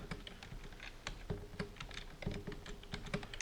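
Fingers type a password on a computer keyboard into a text editor: a close, steady patter of light key clicks with small irregular pauses, alone in a quiet room.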